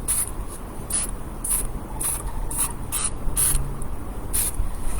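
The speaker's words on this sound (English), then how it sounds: "I'm going to spritz it from far back to try and get some stars" A can of white spray paint gives a series of short, evenly spaced spritzes from far back onto poster board, each a brief hissy burst over a low background rumble.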